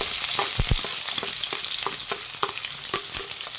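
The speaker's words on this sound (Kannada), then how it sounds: "ಈರುಳ್ಳಿನ ಫ್ರೈ ಮಾಡಬೇಕು" Sliced onions with a bay leaf fry in hot oil for Hyderabadi chicken masala, a steady close sizzle broken by several sharp stirring clanks and scrapes of the spoon against the pan.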